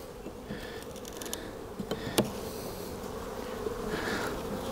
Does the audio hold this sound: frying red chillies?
no